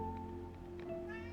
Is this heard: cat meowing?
yes